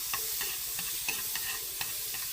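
Margarine sizzles steadily in a pan for shrimp, a soft continuous frying hiss broken by a few light scrapes of stirring, close and fairly quiet.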